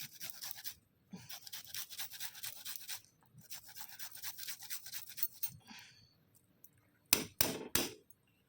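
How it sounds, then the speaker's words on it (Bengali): Fresh ginger rubbed against a kitchen grater in bursts of rapid, close scraping strokes with short pauses, ending in a few sharper knocks. "একটু আদা ঘষে দিই"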